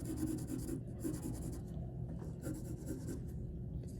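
A graphite pencil shades a sphere on paper, making soft scratchy strokes in short bursts. The strokes are close and quiet over a low background rumble, with no speech.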